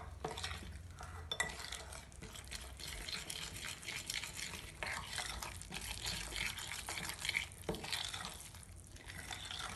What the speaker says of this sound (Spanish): Y ahora vamos a mezclar todos los ingredientes